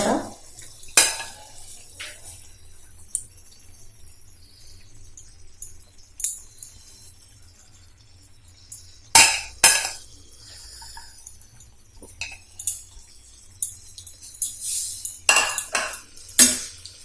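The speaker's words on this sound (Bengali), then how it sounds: "এরপর ভালোভাবে নাড়িয়ে নিচ্ছি, মিক্স করে নিচ্ছি।" A broccoli masala curry with garam masala and chopped coriander is stirred in a pan, giving close, irregular clinks and scrapes of a utensil against metal over a faint background hiss.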